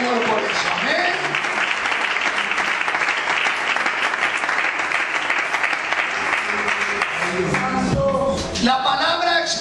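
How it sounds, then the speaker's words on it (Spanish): Congregation applauding during a church service, sustained steady clapping filling the space for several seconds with voices and cheers mixed in toward the end. "Aplaude al Señor por eso."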